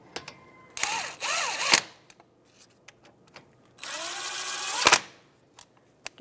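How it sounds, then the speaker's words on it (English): An electric power tool with a 14mm socket snugs the brake caliper bolts on a 2012-2018 Nissan Altima in two loud whirring bursts that rise and fall in pitch, with small clicks and handling noises between. "I'm going to put my electric tool on that."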